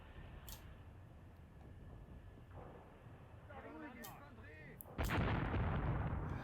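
Artillery fire in the wartime tactics game Graviteam Tactics, with a few sharp distant reports early on and a heavy, loud blast near the end, mixed with a voice talking in the middle.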